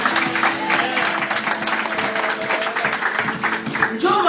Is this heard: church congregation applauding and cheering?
yes